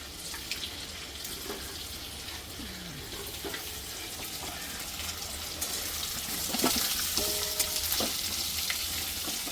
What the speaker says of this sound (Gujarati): તો આવી રીતના જોઈ લો બધા સરસ મજાના ફ્રાય થઈ જશે.